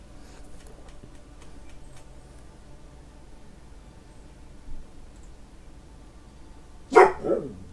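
Puppies give a short burst of barking near the end, loud and close after a stretch of quiet room noise with faint ticking.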